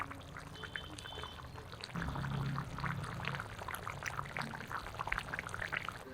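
Water runs and splashes as dishes are rinsed by hand in a home kitchen, a continuous trickling pour with scattered clinks, fairly faint and steady and without speech.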